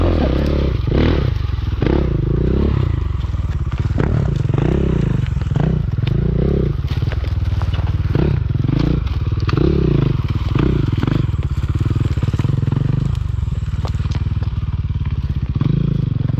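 A motorcycle engine that had been drowned in water runs after being restarted, a loud continuous rough idle with a pulsing chug and clattery mechanical knocks close by, no voices over it.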